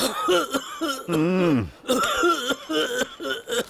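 A person coughs hard in repeated harsh bursts with wheezy, strained breaths and a drawn-out groaning exhale between them.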